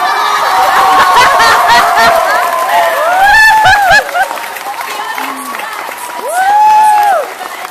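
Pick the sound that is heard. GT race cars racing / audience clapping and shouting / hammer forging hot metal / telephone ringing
audience clapping and shouting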